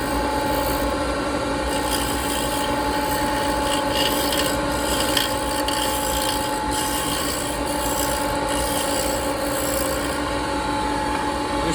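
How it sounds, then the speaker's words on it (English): Dressing a grinding wheel at a stone-carving bench while dust suction runs, making a continuous harsh rasping and grinding drone with a steady mechanical whine, loud and unbroken. "We're gonna dress the wheel."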